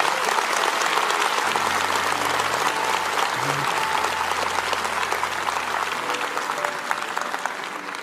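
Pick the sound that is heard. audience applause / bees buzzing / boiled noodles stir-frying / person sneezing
audience applause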